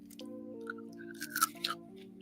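Crunchy fries chewed close to the mic, several crisp bites and crunches over a sustained electronic background tone.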